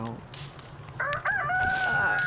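A rooster crows in the video game Palworld at daybreak, one drawn-out cock-a-doodle-doo over a steady background ambience, clear and fairly close.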